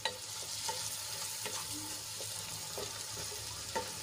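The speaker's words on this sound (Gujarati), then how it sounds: "એ એડ કરી દઈશું અને ડુંગળીમાં સરસ રીતે મિક્સ કરી લઈશું" Finely chopped tomatoes stirred into frying onions in a pan, giving a continuous close sizzle with soft, regular spatula strokes and scrapes throughout, no voices.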